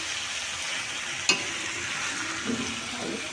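Potatoes with spices fry in oil under a loud, steady hiss. A single sharp clink from the stirring spoon sounds partway through, followed by a few softer scrapes.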